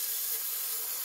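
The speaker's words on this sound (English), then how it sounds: "Oh, sizzling." Steady, loud broadband sizzling of bacon frying in a Ninja Dual air fryer, a continuous crackling hiss with no talking.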